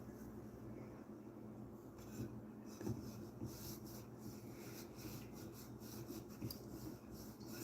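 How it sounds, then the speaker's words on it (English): A wet wipe rubs along a fan blade with a soft, steady scrubbing that comes and goes in short strokes, close up and fairly quiet, with a few small knocks and no talking. "These are just wet wipes, what I'm using."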